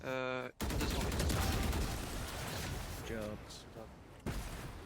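Rapid gunfire from the Judge shotgun in the Valorant video game, with a quick cluster of sharp, loud blasts after a brief pause and game voices and sound effects mixed over the shooting.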